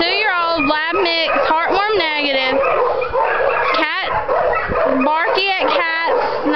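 A two-year-old Labrador mix barks, yips and whimpers in quick bursts close to the microphone, while a person talks almost without pause over the dog's sounds.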